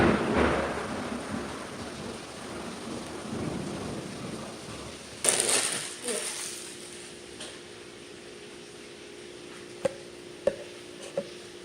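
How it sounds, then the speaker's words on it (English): Rain falls beside a home kitchen during a thunderstorm, with rumbling thunder building early, a sharp crack near the middle, and a fading patter interrupted by a few small clicks from close-by food prep. "This is lightning and thunder. It's clashing."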